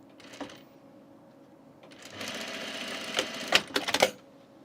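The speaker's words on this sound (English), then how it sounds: "we'll just sew right next to our placket" A sewing machine stitches along the edge of a men's button-up shirt placket in quick, mechanical bursts, starting softly, then running steadily and ending in a few louder stops and restarts.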